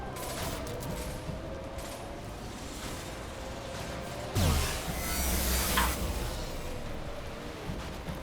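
Gunfire in Mass Effect 2 Legendary Edition, a steady rattle of weapons under a constant combat din, with a louder burst of shots and impact noise partway through.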